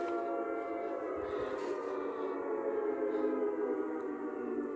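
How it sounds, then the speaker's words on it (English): An air raid siren drones steadily throughout in a video game set during a nuclear attack, sustained and fairly loud with little change in level. "The siren's blaring."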